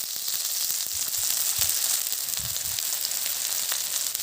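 Fish frying in sesame oil over a primitive open-fire setup, a steady close crackling sizzle with occasional soft pops and light stirring knocks.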